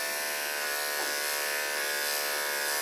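Electric dog grooming clippers fitted with a half-inch guard buzz steadily and close up, a constant humming drone that continues without a break and with no talk over it.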